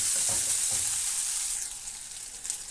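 Ginger, green chili and curry leaves sauté in hot oil in a pan, giving a bright, steady sizzle with a few soft stirring scrapes early on, fading slightly toward the end.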